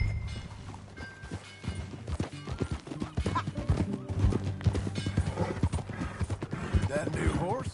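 Galloping horse hooves thud rhythmically in a video game, joined by a whinny, while voices talk over the ride.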